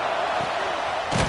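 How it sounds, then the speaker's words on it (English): Stadium crowd at an American football game roars steadily throughout, a dense, loud wash of cheering that swells briefly near the end. "Listen to the crowd energy here in the early going."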